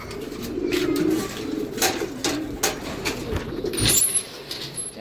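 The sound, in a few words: racing pigeons cooing on arrival at the loft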